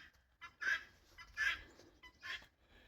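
Three bursts of squawking poultry calls, hens clucking and cackling in short loud spurts with brief pauses between, fairly close.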